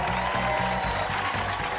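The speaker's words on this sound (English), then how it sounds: "Listen to the cheering" A crowd cheers and applauds in a broad, continuous wash of noise that sounds distant and steady throughout.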